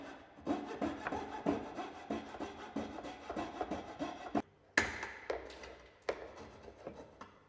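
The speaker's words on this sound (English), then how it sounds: "ensure that the coping saw blade is cutting square to the face of the skirting" A coping saw cuts into a timber skirting board in quick, rhythmic rasping strokes, close and fairly loud, with a short pause before the sawing resumes in sharper, more irregular bursts.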